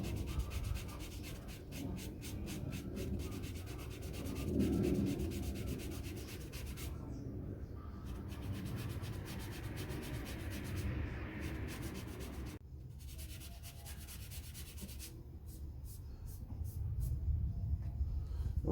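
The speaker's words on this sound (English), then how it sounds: "We're using the 220 sandpaper" Rhythmic scratchy rubbing of a sanding block with 220-grit sandpaper over a painted dresser, strokes repeating steadily with brief pauses, close and fairly quiet.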